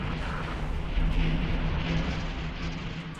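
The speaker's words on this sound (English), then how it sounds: "Incoming missile." Missile strike rumbling against a ship in the space game X4 Star Wars Interworlds, a dense, steady low roar with a slight swell around the middle, no talking.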